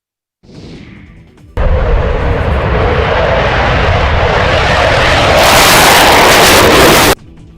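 A Rafale fighter jet roars past during a night desert exercise over Jodhpur, a sudden loud, broad engine blast that swells harder near the end before cutting off abruptly.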